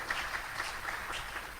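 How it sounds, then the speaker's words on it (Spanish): Applause from a congregation during a church Bible study service, a steady wash of many hands clapping without pause and no speech over it. "déle un aplauso al Señor, hombre"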